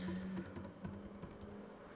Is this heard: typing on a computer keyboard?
yes